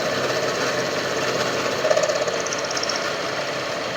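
A lathe takes a very light cut on a handmade steel pill box axle plate for a custom hardtail Triumph chopper, a steady broadband machining whine and chatter running continuously at close range with a brief rise partway through.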